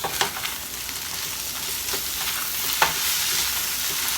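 Tofu scramble frying in a pan, a steady close sizzle with occasional soft scrapes and taps of a utensil as it is turned over, continuous and fairly loud.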